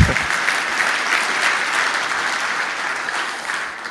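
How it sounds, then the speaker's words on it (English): An audience at the ARCHICAD 23 world premiere breaks into applause, a steady wash of many hands clapping that holds fairly even and fades slightly toward the end, with no talking over it. "Some applause there, that's good to hear."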